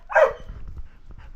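A puppy gives one sharp, fairly close bark in a backyard garden, followed by low rustling and faint background noise.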